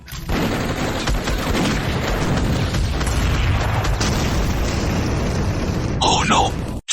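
Weapons open fire in an animated post-apocalyptic mecha series, a loud continuous barrage of gunshots and booming explosions with a brief ringing burst near the end.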